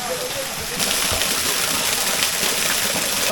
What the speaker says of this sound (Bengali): এই ছোট্ট ঝর্ণাটা আপনাদের চোখে পড়বে